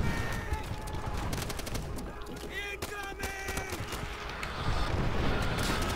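Artillery fire and gunfire crash through a Call of Duty: World at War match on the Castle map, with a steady roar of dense shots and blasts that swells louder toward the end.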